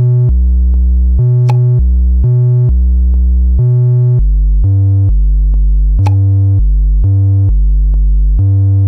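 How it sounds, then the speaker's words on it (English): A deep, sustained bass synth, a sine wave with distortion, plays a slow stepping pattern of held notes, its gritty distorted tone rich in buzzing overtones, loud and alone. "I'm using a simple sine wave with distortion to create some harmonics."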